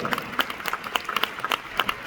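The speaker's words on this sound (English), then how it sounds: "I believe this deserve another big round of applause." A corporate meeting audience claps in a quick, uneven patter of separate hand claps, moderately loud and close, lasting about two seconds.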